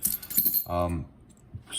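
Long metal keys from traditional locks in Oaxaca, Mexico, jangling in a hand: a short bright metallic rattle in bursts, close by, alongside brief talk.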